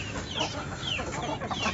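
Aseel and Plymouth Rock hens in a new cage clucking softly in a few short rising calls over a muffled background, no voices.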